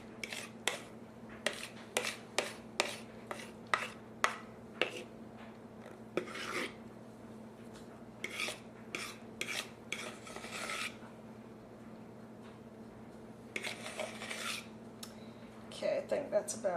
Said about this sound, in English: since I have a fork handy, I'm just going to use that to scrape the ball